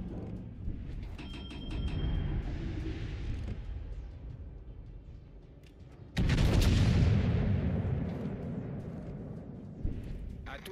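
Naval guns fire in the World of Warships Legends video game, with heavy booming salvos and a loud, rumbling blast that swells midway and then fades. A person talks over the battle noise.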